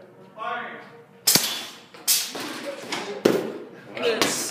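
FRC competition robot shooter firing balls during team testing: several sharp, loud thumping launches spaced about a second apart, mixed with people talking nearby.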